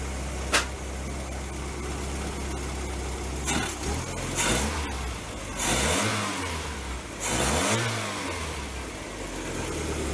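A 1990 Volkswagen Fox engine with a lopey cam idles with a rumble, then gets several sharp blips of the throttle, each rev rising and falling quickly, close by.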